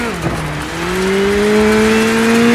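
A car engine in the racing game DIRT 5 is given a light touch of throttle, revving briefly, dipping, then climbing into a smooth, steadily rising drone, fairly loud and close with no talk over it.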